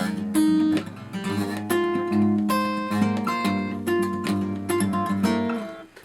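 Acoustic guitar fingerpicks a driving rhythm with the thumb and first finger, and sharp percussive slaps on the strings punctuate it now and then. Close and fairly loud, with no voices.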